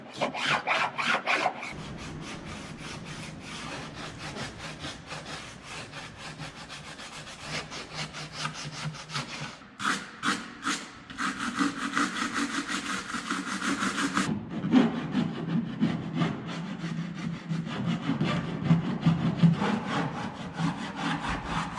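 Sanding of the cut fender flares on a Jeep TJ, with continuous abrasive rubbing and rasping strokes, loud and close, running steadily for about twenty seconds with a few brief pauses and no talking.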